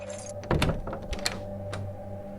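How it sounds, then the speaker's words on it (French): A key turning in a lock and a door opening, heard as a few dull clunks and rattles over a low steady hum, followed by a softer thump. "Elle mit la clé dans la serrure et ouvrit la porte."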